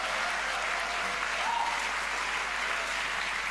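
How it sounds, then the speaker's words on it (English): An audience applauds speakers at a police academy school seminar, a soft, steady wash of distant clapping with no break across the whole stretch. "let's give an applause again to our speakers today"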